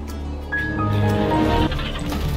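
A goat bleats in the video game Ark, a nasal wavering call of about a second, loud and close, over steady game background sound.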